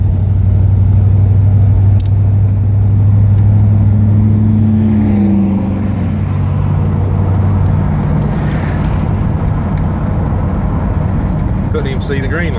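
A 1972 Ford LTD convertible driving along, its engine giving a loud, steady low rumble that shifts in pitch partway through, with constant open-air wind and road noise.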